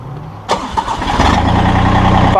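A Massey Ferguson GC1720 sub-compact tractor with a backhoe cranks and fires up about half a second in, then settles into a loud, steady close-up engine run.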